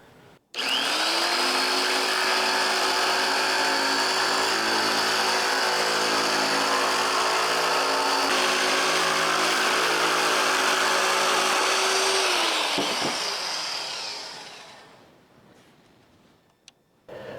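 A loud, steady power tool runs for about twelve seconds, trimming excess metal from the top edge of a fabricated panel on a V8 LS-swapped Toyota Celica, then winds down over a few seconds.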